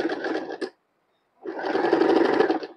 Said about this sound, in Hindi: अब हम इसको ऐसे सीधा ही स्टिच कर लेंगे